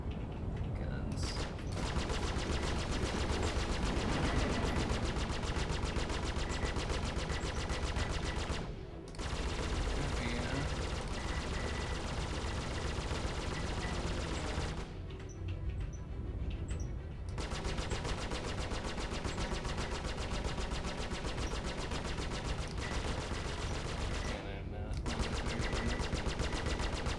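Ship guns firing in the space game Star Citizen: long sustained bursts of rapid automatic gunfire, loud and dense, broken by a few short pauses, with electronic cockpit sounds mixed in.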